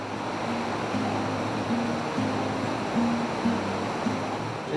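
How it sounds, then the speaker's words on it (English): Steady rushing water fills the scene, a broad continuous roar of a flowing river in Calaveras County, California, with a faint low hum running underneath. "Is that the sound of the river I can hear?"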